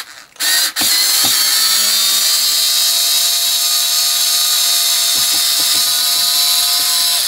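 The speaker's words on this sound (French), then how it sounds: "On va essayer carrément de dévisser celle que je viens d'installer." A KUXING cordless screwdriver runs in reverse to back out a freshly driven screw, giving a steady, loud motor whine that holds for several seconds after a brief start, with faint clicks and no talking.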